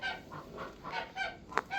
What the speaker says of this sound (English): Oh, you bird. Get in there.